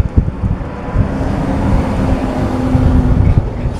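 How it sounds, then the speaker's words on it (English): Cars passing on a nearby road make a steady, rumbling wash of traffic noise with low thumps and buffeting, heard indoors in the background. "it's just cars going by"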